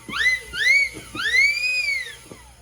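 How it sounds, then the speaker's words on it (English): Wind siren effect on a Style 41 American Fotoplayer, rising and falling whistling wails in three or four swooping bursts, the longest held and arching, close and clear with no talk. "Then you have the wind siren."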